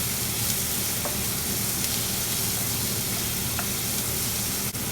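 Okra and potato frying and being stirred in a pan, a loud continuous sizzle close up with faint scraping and clicks of the stirring utensil throughout, no talk.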